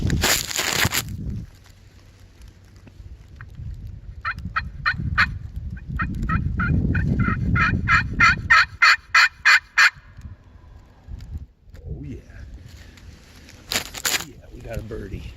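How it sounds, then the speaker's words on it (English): A wild turkey gobbling in response to a call during a hunt, a rapid burst of rattling gobble notes in the middle, with close rustling and handling noise around it. "there's a bird. He should be about 200 yards straight out from us, and he's gobbling pretty good"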